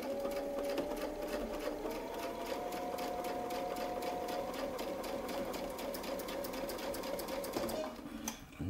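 A sewing machine stitches a quilt block guided by a Westalee ruler, running in a rapid, even needle rhythm for several seconds at low volume before stopping.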